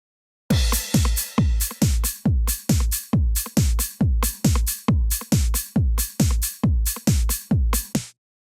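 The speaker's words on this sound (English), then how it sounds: "And the drums sounds like this." Trance drum loop built from Logic's Roland TR-909 and Ultrabeat trance kits in a 90s dream trance style, with a boomy kick and a snare pounding out a steady four-on-the-floor pattern for about eight seconds, loud and alone.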